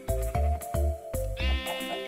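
Blocky video-game sheep in Minecraft One Block let out a quick series of three or four loud, close, wavering bleats in succession, the last one higher and thinner, with no talk.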